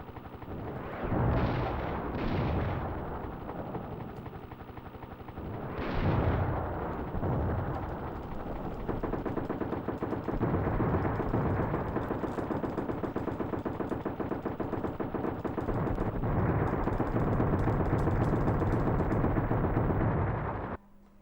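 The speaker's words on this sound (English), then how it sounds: "Apparently we shoot a missile at it and the guy steps out absolutely fine." Missile strikes and explosions from the helicopter combat video game Desert Strike: Return to the Gulf, dense booming blasts and rattling bursts running almost continuously for about twenty seconds, loud and close, then cutting off abruptly.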